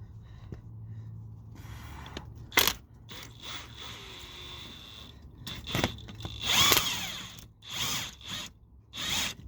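A power tool tightens the top nut on a Ford Fiesta Mk7 front spring strut in short, irregular whirring bursts with ratcheting clicks, close and moderately loud.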